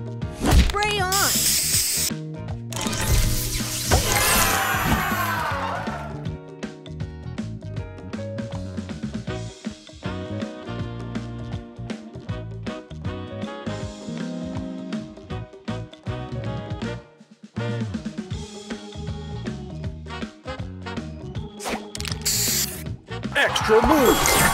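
Spray booster effect in the Match Masters mobile puzzle game, a hissing spray burst at the start over busy, loud game music and sound effects, with an announcer-style voice calling out.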